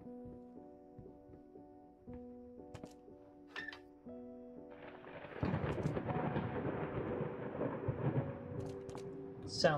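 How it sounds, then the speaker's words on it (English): A rolling thunderstorm rumble in the horror game Layers of Fear grows from about five seconds in, swelling into a broad, loud roar after a quieter stretch of tonal game ambience. "Thunder's good."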